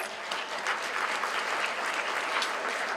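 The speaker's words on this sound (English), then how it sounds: "Ted Dranias of Petros Taverna, a round of applause," An audience at a Greek gastronomy event in Montreal gives a round of applause for a chef from a local taverna, a full, even burst of many hands clapping that carries on for a few seconds without speech.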